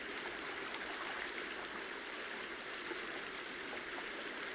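River rapids rush in a steady, broadband wash of flowing, well-oxygenated water, constant and fairly close with no voices or other sounds over it.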